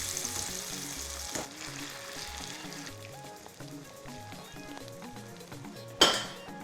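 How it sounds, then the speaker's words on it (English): A second batch of corn-flour coated food fries for a South African kota, a soft crackling sizzle overlaid with clinks of utensils against the pan and a sharper clatter near the end, with quiet background music. "there's a rule of double frying. So allow it rest while I bring the other batch to fry."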